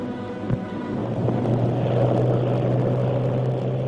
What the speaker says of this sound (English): Groups of aeroplanes dived in formation